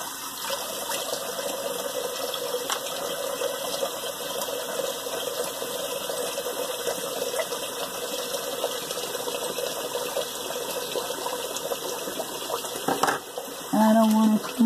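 A cold tap runs steadily during a rinse after a wet shave, giving an even, close rush of water that continues without a break, with a brief change in the sound near the end.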